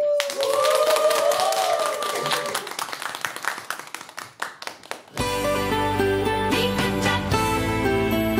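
Brisk clapping from a group rings out, tapering off as music with band instruments kicks in midway and carries on loudly.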